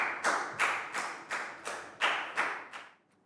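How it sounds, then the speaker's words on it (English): About eight separate claps in a steady rhythm, close and fairly loud, from a Year 3 English class applauding a pupil; the claps stop and the last second falls nearly silent. "And another round of applause"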